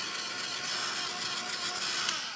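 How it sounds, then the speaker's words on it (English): A heat tool blows steadily over a watercolour-card floral craft tag, a constant close airy whirring roar with no talk. "just bring my heat tool, so sorry for the noise"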